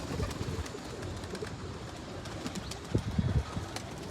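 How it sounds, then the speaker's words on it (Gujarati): Low pigeon coos murmur against a busy outdoor background, with a slightly louder cluster of cooing near the end. "બહુ મસ્ત કબૂતર છે જો"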